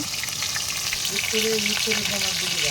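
Onions fry in hot oil in a wok with a steady, close crackling sizzle, and a faint voice hums briefly underneath.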